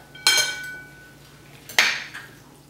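Soba noodle salad with carrot and scallions is tossed in a bowl, with two distinct clinking knocks of utensils against the dish about a second and a half apart over a quiet background.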